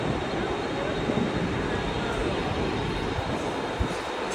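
A train pulls into a station near Vashi, heard as a steady, close, broadband rumble and rush of wheels and carriages with no clear breaks.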